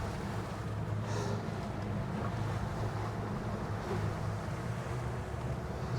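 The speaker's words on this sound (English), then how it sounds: "This wind is just unbearable." Strong wind buffets a stone crabbing boat out on the water, making a steady, loud, broadband rush that continues without a break from start to finish, with no talking.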